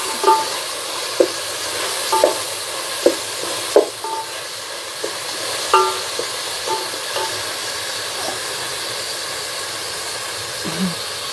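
Onions are sautéed in a pot for chicken dum biryani, giving a steady hissing sizzle. Periodic sharp clacks from a spatula striking the vessel come through, all fairly close and loud.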